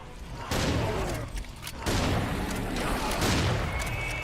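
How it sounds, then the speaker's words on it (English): A double barrel shotgun in Serious Sam 4 fires in heavy, booming blasts, two big bursts about a second apart with roaring noise between, loud and close. "Oh man, I love when shotguns do this."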